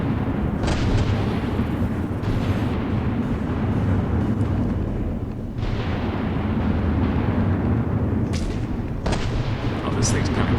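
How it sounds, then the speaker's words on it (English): Continuous artillery shell barrage in a military video game, a dense unbroken rumble of distant explosions with sharper impacts cutting through now and then, loud and steady across the whole stretch. "Constant barrage of shells."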